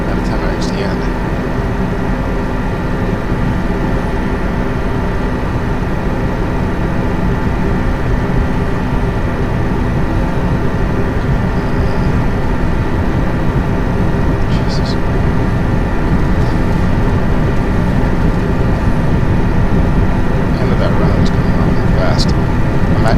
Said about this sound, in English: Bring the engines up to full.